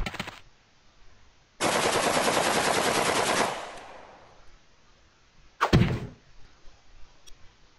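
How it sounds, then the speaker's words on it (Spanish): Rifle fire in a video game: a dense two-second burst of rapid automatic shots, then a single sharp loud report a few seconds later, with quiet in between. "Un rifle."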